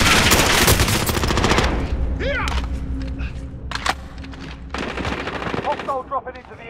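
Bursts of automatic gunfire and thumping shots ring out in a Call of Duty: Modern Warfare battle, loud and close at first, then scattered rattles and whizzing effects over a droning background.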